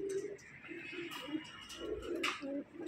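Pigeons, including racing pigeons, cooing in a repeated low rhythmic series, close by and moderately loud, with light rustling and faint chirps mixed in; no speech.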